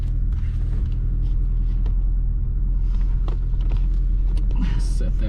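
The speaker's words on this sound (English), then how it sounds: "We'll go ahead and start it up. Our old Fiat Uno turbo." A 1990 Fiat Uno Turbo Phase II's engine drones steadily from inside the car during a drive, a constant low rumble with faint creaks and rattles, while people talk over it.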